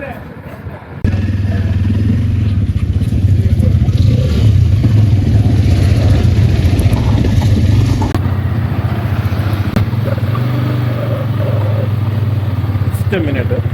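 A KTM/Bajaj NS200 motorcycle on a long-distance road trip, its steady engine drone and road rumble loud and close for most of the ride.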